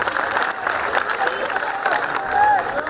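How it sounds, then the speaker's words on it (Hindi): An audience applauds at a religious discourse session, a dense steady wash of clapping that fills the room, close and continuous with no break. "इनको ताली बजाकर धन्यवाद।"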